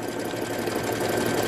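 A sewing machine zigzag stitching over a patch on jeans, a steady fast mechanical whir heard close up and alone.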